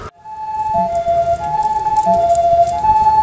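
A two-tone siren from a high-spec ambulance, in service since 2005, wails steadily during a disaster drill, alternating high and low pitches, loud and close over low road rumble.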